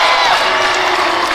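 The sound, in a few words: loud crowd cheering in a high school gym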